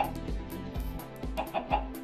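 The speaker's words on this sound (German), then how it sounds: "Hier ist eine Hühnerpopulation." Minecraft chickens clucking repeatedly in quick, close bursts over a low game background, several soft cackles overlapping with no speech.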